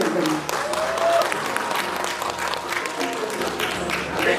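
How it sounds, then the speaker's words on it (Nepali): Loud, dense crowd applause fills a hall at the National Entertainment Award 2021 ceremony, sustained clapping from many hands with some voices mixed in. "जनकराज खकुरेललाई जोरदार ताली बजाइदिनुहोस्"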